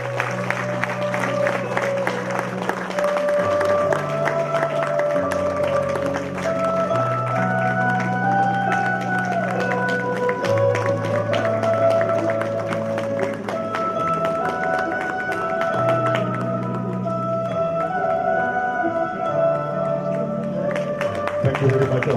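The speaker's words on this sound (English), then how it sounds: "let's give a round of applause and welcome Honorable Chief Justice Rituraj Avasthi" Sustained audience applause at a state legal services authority silver jubilee ceremony welcoming the Chief Justice, with steady clapping lasting the whole stretch while background music plays underneath.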